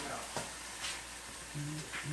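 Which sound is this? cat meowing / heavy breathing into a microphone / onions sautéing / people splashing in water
onions sautéing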